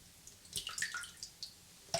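A wet shaving brush dunked into water and swirled, then lifted out and shaken, giving a few scattered close drips and small splashes with quiet gaps between them.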